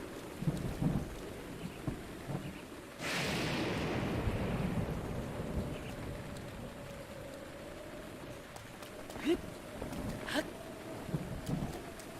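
Steady rain in the video game Zelda: Breath of the Wild hisses throughout, broken by a loud rumbling thunder crash that swells suddenly and then fades back into the downpour.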